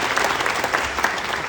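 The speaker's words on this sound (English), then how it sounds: "a special round of applause for our incoming class of 2028." At a UConn convocation ceremony, the crowd applauds the incoming class of 2028 with loud, sustained clapping and scattered crisp individual claps filling the hall, and faint voices mixed in.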